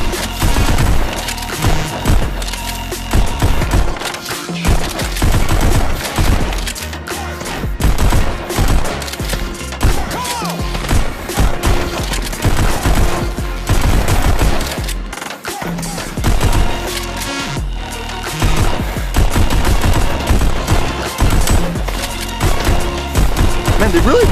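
Rapid gunfire from the VR rhythm shooter Pistol Whip on a Meta Quest 3, with dense bursts of shots and impacts layered over loud continuous game music, while someone talks over it.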